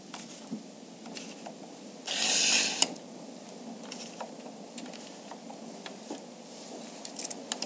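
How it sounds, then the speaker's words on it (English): Needles pushed back along the needle bed of a Bond Elite knitting machine against a card, a close mechanical rattle and clicking with a brief louder scraping burst midway, otherwise quiet ticks. "Place the yellow card onto the needle bed and push the needles back against it until they are all in the forward working position"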